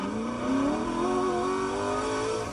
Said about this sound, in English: So I'm gonna play GT40 taking off.